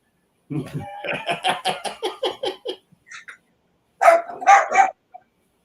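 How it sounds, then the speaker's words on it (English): A dog barks repeatedly in a quick run of sharp yaps, followed by a second short burst, with no talking over it. "I hear that guy barking in the back."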